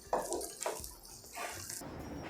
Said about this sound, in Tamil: 1 கப் தண்ணி விட்டுருக்கேன்.